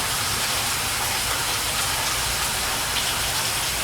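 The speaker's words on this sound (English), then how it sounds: "Lots of rain" Heavy rain pouring down, a dense, constant hiss with steady loudness throughout and nothing else audible above it.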